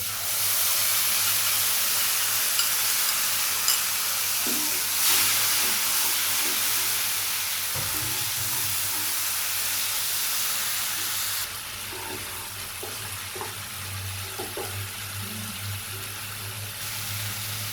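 Tomato paste and ginger paste frying in a pan, a continuous hissing sizzle that softens partway through, with faint scattered stirring sounds and no voices.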